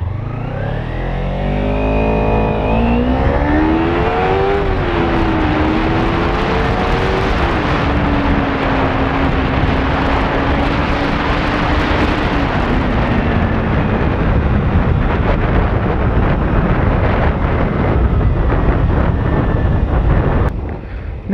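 A Kawasaki Ninja 300 twin-cylinder motorcycle pulls loudly through rising and shifting engine tones under heavy wind rush as it rides along, steady and close throughout with no talking.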